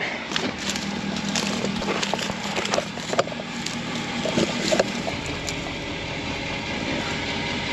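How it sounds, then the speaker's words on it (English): A parked pickup truck idles steadily out in a field, its low engine rumble constant and near, with scattered knocks and rattles over the top and no talk. "I'm going to leave the truck idling"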